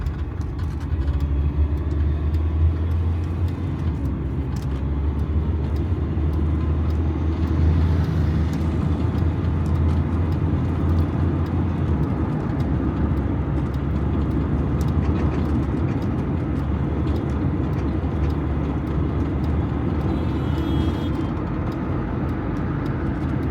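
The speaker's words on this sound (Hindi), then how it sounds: "पार्क रोड ते हसबे मामूल ट्रैफिक रवां दवां।" Steady road traffic rolls along Park Road in Islamabad, a continuous low rumble of car engines and tyres with passing vehicles swelling and fading, moderately loud, with no voices.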